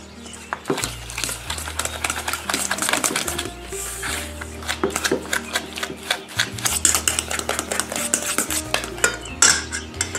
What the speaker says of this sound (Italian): Continuo a lavorare ancora un po' con la forchetta